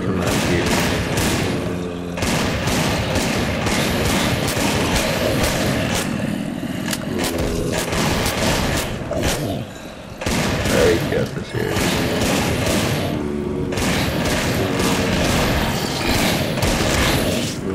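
Rapid, dense gunfire in ZombieCraft, bursts of shooting repeating almost continuously with brief pauses, loud and close, mixed with engine-like rumble.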